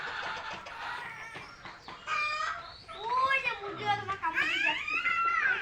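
Hens clucking and calling in short, bright bursts, growing louder in the second half, while a person talks nearby.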